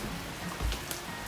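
Steady rain patters over a vegetable garden of sponge gourds in a soft, even hiss.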